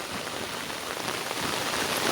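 Heavy monsoon rain pours in Konkan beside a flooding river and paddy fields, a dense, steady hiss of downpour drumming on surfaces, loud and continuous throughout, with no voices.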